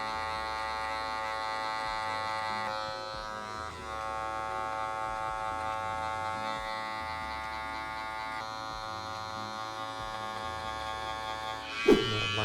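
Electric hair clippers buzz steadily and close by while someone cuts a fade haircut, with small shifts in pitch as the blade moves. A sharp click sounds near the end.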